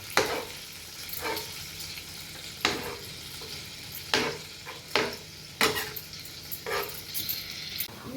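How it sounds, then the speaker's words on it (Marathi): Stuffed squids fry in oil in a home kitchen pan, giving a continuous crackling sizzle marked by repeated scraping stirs and clatters at irregular intervals. "पयलीं फ्राय करपाचें सगळें पयलीं तेणें फ्राय करपाक घायलां"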